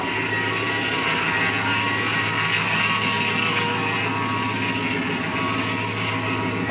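A 2005 truck engine idles steadily with a constant low hum and drone, close by and unchanging throughout.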